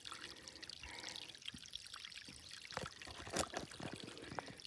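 Soft trickling and pouring of a flowing stream on the Appalachian Trail, faint and close, with irregular splashes and gurgles.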